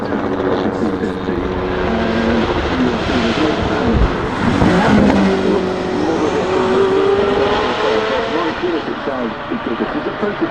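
A prototype engineering race car at the Goodwood Festival of Speed roars loudly with its engine and exhaust, a continuous rising and falling drone as it passes, with people talking underneath.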